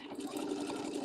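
A sewing machine stitches a quilted table topper, its needle running in a fast, steady mechanical whir, faint and close with no talk.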